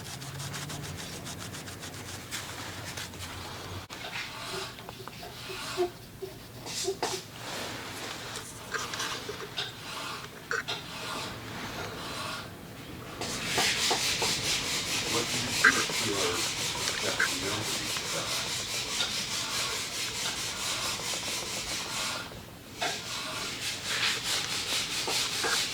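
Coats being rubbed onto metal to bring out removed serial numbers give a continuous close scratchy rubbing that grows louder and denser partway through, with a brief pause near the end.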